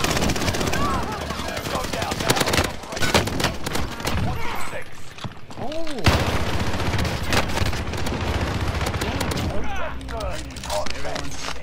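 Rapid automatic gunfire crackles in a Call of Duty match, dense bursts close and loud with explosions and game effects layered throughout.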